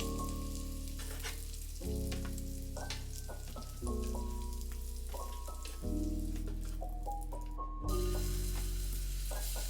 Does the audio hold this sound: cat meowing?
no